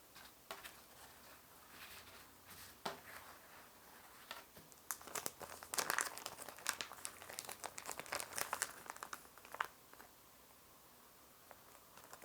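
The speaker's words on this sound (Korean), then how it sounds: "이렇게 키친타올로 꾹꾹 눌러서 핏물을 제거해 줄게요." Kitchen paper towel pressed firmly onto raw beef to blot away blood, giving soft close crinkling and patting sounds in short bursts, quiet and alone.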